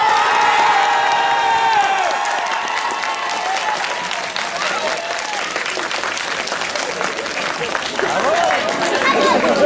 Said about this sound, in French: Si oui, applaudissez très fort!